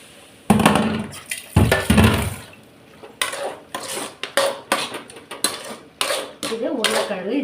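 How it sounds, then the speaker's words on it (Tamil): A mixer grinder jar is rinsed and handled in a home kitchen while cooking, giving loud close clatters, knocks and sloshes of water in irregular bursts, with a brief burst of louder rushing near the start. "இந்த மிக்ஸி ஜாரை கழுவிட்டு"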